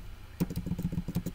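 Quick, light keystrokes tap on a computer keyboard in a steady rapid run, close and quiet, with no voices.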